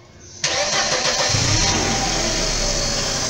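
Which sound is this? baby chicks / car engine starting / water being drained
car engine starting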